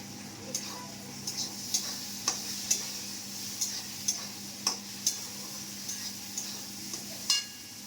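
Noodles and pasta tossed in a kadai after the spices have been fried, giving a run of regular scraping and clicking strokes over a soft, steady sizzle.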